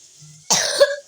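A person with a cough and fever coughs in a short, harsh burst after a faint low hum, followed by the onset of another cough at the very end; nearby and fairly loud, with no talking.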